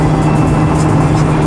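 Tesla Model S passing close by, a loud, steady whoosh of tyre and road noise with a faint humming tone held throughout.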